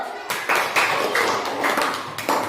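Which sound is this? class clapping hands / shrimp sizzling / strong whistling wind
class clapping hands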